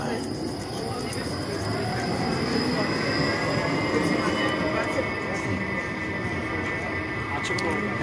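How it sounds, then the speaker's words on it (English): Modern Škoda-made city tram passing on a street in Bratislava, a loud continuous rumble with wheel and rail squeal and whine throughout, with voices under it. "And this tram goes up to the main train station."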